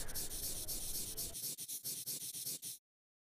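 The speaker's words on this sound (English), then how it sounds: "You just scratch the middle of your screen and you hear this ASMR sound." Scratch-style ASMR effect from the OPPO Relax phone app: a steady, close rubbing texture that breaks into a quick series of short, evenly spaced scratchy strokes before cutting off, with no talking.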